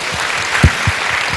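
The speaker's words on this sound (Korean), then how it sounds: "저한테 주신 박수보다 다니엘 씨한테 준 박수가 더 큰 것 같아서" An audience applauds after a greeting at a public diplomacy talk event, a short burst of clapping from many hands with a few louder claps standing out.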